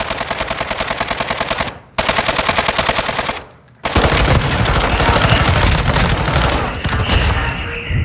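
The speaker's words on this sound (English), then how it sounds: "You are taking effective fire." Rapid machine gun bursts rattle loud and close in a squad-based shooter video game, several sustained strings of fire broken by brief pauses, with no talking over them.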